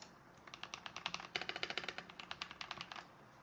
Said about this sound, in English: I'm gonna click on my mouse a few times as well as type on my keyboard.